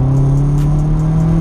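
A stage 3.5 tuned Vauxhall Astra VXR engine pulls hard as the turbo spools, a loud steady engine tone with a faint whistling rise, heard briefly without speech.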